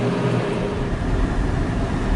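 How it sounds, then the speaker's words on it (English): A loud air conditioning fan runs in a room, giving a constant, dense, broadband whoosh with a low rumble that holds steady throughout without pauses. "Sorry, the air conditioning is on. It's so loud."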